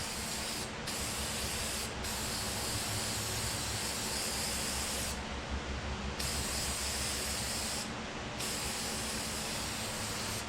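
Air filter oil spray hissing onto a CF Moto air filter, a continuous close spray broken by a few short pauses.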